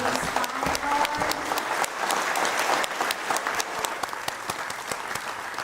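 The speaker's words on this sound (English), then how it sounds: "Can we have a round of applause for the police honor guard?" An audience applauds the police honor guard at a Vietnam-era veterans awards ceremony in West Haven, a steady round of many hands clapping in a hall, with sharp individual claps standing out.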